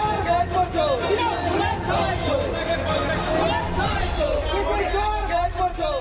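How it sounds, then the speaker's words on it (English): A crowd at AIIMS Bhubaneswar chants 'chor chor' in loud, rhythmic unison, a dense babble of many voices filling the whole stretch. "the crowd present there broke into chor chor chants"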